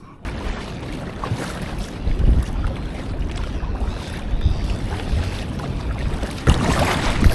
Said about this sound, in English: I'd rather be paddling in close, enjoying the lift of the swells